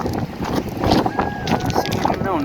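Strong wind gusting at Dhumba Lake near Jomsom in Mustang, a steady broadband rush buffeting the microphone throughout, with a voice talking over it.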